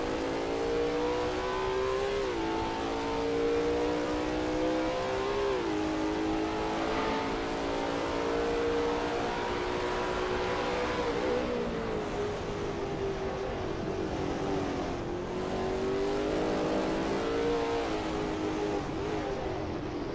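A Lola T70 MkII Spyder race car in a racing video game circles Watkins Glen, its engine droning steadily with pitch rising and dipping through gear changes and corners, loud and close throughout.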